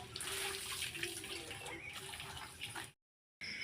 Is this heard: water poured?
yes